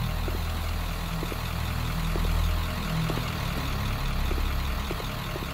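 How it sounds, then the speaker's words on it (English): A diesel truck engine in the video game Siren Head Retribution drones in a steady, heavy rumble, loud and close, with a low idle and a slight swell in the middle. "That just sounds like a diesel truck, honestly."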